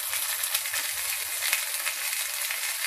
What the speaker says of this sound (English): They're sizzling away nicely.